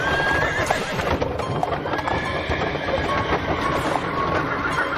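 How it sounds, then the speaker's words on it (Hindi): Horse-drawn carriages laden with coffin boxes set off along a road, with steady clip-clop of hooves, a horse neighing and creaking wheels, dense and continuous throughout. "कॉफिन बॉक्सेस से लदी घोड़ा गाड़ियां काली घाटी से रत्नागढ़ की तरफ चल पड़ी"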